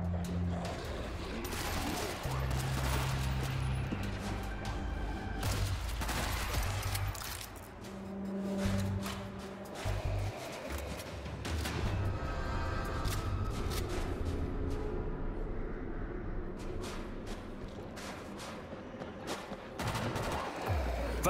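Machine gun fire rattles through a World War Z video game fight in long, dense bursts, mixed with other gunshots and loud battle noise over roughly twenty seconds.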